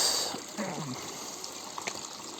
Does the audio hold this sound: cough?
no